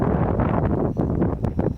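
Breezy wind buffets the microphone on a mountain top in the Brecon Beacons on an evening walk, a loud, continuous low rumble with gusty fluctuations and no voices.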